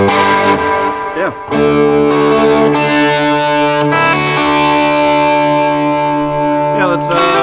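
A distorted electric guitar through an Echoplex echo effect and REVV D25 amplifier rings out sustained chords that blur into trailing echo repeats, loud and close.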